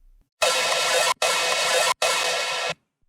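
A processed dubstep bass with post-processing switched on plays as three loud, sustained bursts of bright, dense, gritty tone, divided by short clean gaps.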